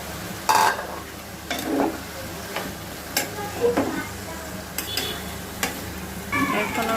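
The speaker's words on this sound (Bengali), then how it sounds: "এখন আমি এটি ভালো করে কষিয়ে নিব।" Cubed potatoes coated in spice masala fry in a pan, a low sizzle punctuated by regular spatula scrapes and knocks against the pan every second or so; no speech.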